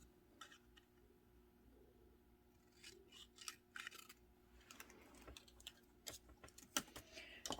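Paper is cut with scissors around a template in a quiet room: a series of sharp, close snips and crisp paper rustles, irregular and bunched, growing busier toward the end.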